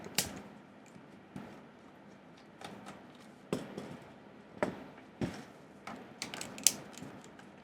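Plastic screws being unscrewed from an IKEA power strip during a teardown, giving soft irregular creaks and small ratcheting clicks, close and fairly quiet, with a few sharper taps toward the end.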